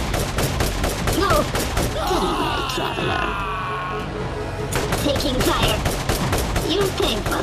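Rapid bursts of gunfire and shooting from the Borderlands video game, Claptrap's New Robot Revolution on PS5, crackle loudly and continuously with a brief lull in the middle, alongside game sound effects.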